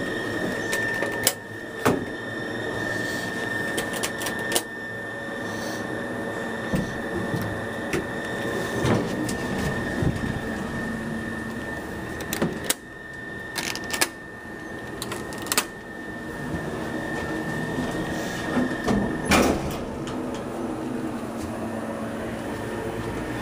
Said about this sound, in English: This is the elevator of the Graham Memorial Building at the UNC campus at Hydraullic.